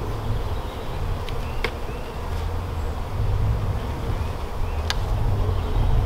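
Honeybees being installed from a package into a hive hum and drone steadily up close, a dense, continuous buzzing swarm with no talk over it.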